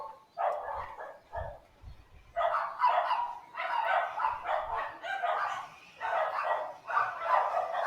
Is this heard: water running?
no